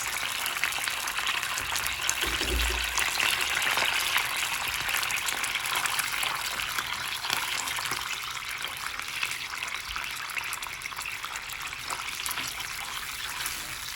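Water pours steadily and continuously into a pot of rice, a bright sustained splashing hiss that runs for the full length with a brief low thud early on.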